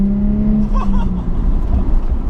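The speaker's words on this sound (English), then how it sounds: "Oh man, I love this exhaust system." Nissan 350z sports car exhaust droning and revving under load while driving, loud and close with a steady low rumble throughout.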